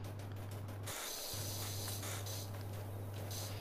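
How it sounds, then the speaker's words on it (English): A pressure washer sprays a sofa in the video game PowerWash Simulator: a steady, close hissing spray runs throughout, briefly cutting out once near the start, with no voices. "I don't like how you spray the sofa, it just leaves a wet patch."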